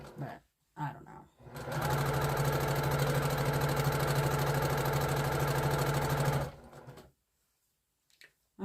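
A sewing machine runs steadily for about five seconds while stitching a jelly roll quilt, a loud continuous motor whir with rapid needle rhythm, bracketed by brief speech before and after.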